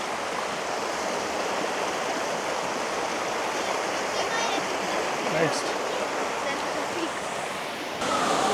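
A canyon stream on a Transylvanian hiking trail rushes in a steady, broadband wash close by, with a person speaking briefly over it.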